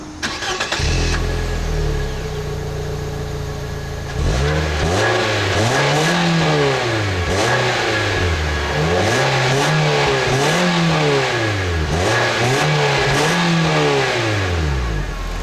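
A 2015 Nissan Versa Note SR's 1.6-liter double overhead cam four-cylinder starts, then revs up and down repeatedly in loud, close, rising-and-falling sweeps.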